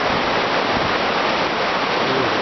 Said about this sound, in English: There's the creek there.